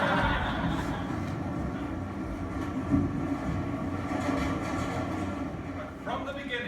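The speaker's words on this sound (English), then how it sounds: "We're on a train heading home from a party in Washington Heights" A passenger train rolls along at speed, heading home at night through Washington Heights, with a continuous rumble and rattling hum, faint clacks and a brief squeal near the end.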